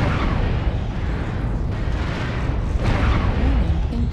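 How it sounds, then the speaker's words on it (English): An artillery strike pounds the ground in MechWarrior Online, a dense continuous roar of heavy booming explosions that stays loud and rumbling throughout, with deep low-end thunder and no pauses. "Artillery strike activated."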